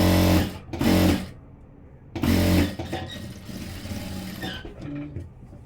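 A sewing machine stitches blouse fabric in loud close bursts, two quick runs then a longer one, followed by softer mechanical clicks and handling.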